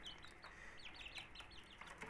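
Aseel chicks giving rapid high-pitched cheeps and soft clucks, a quiet, continuous chatter of short calls from a small group close by, with no talking.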